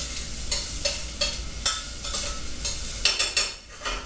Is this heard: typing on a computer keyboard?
no